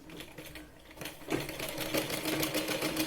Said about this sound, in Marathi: आपण परत इथे डबल शिलाई लावून घेतोय